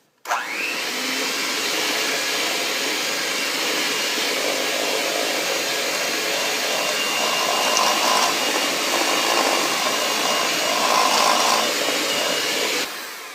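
An electric mixer whirs steadily as it beats cake batter for a marble bundt cake, starting abruptly and running loud and continuous for about twelve seconds with slight changes in pitch before cutting off, no talk.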